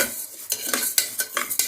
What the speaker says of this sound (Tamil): இதை கொஞ்சம் நல்லா செவக்க வறுத்துக்கலாம்.